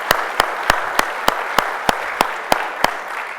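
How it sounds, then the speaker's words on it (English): Audience applause at a technology conference keynote, a steady wash of clapping punctuated by regular sharp, loud claps close to the microphone roughly every third of a second. "So let's give him a round of applause."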